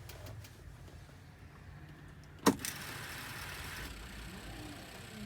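A truck engine cranks and catches in one sharp burst partway through, then settles into a steady, moderately loud idle as air pressure builds toward 125 psi, after quiet cab ambience.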